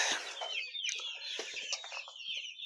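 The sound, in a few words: chicks and chickens clucking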